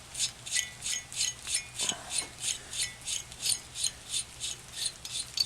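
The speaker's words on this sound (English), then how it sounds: "I'm just going to put these nuts back on this stud" Nuts being threaded back onto a stud on a torqued engine head: a regular series of rasping, scraping turns, about two per second, close and moderately loud, with no speech.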